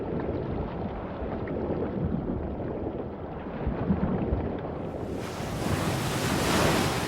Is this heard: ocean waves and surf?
yes